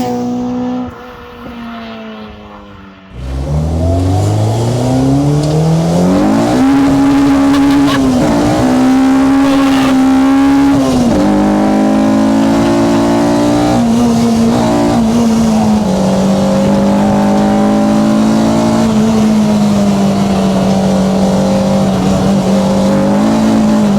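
A K20-swapped Honda Civic EG hatch on semi-slick tyres, heard from inside on damp roads. Its engine starts up loud and revs hard, pitch climbing through the gears and dropping at each shift, then holds a loud, sustained drone.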